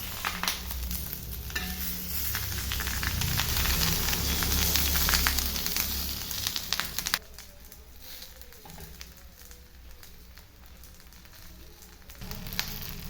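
Fish coated in masala sizzles and crackles steadily in a pan, loud and dense at first, then quieter after a sharp break as the pieces are turned over, with soft scraping of the flip.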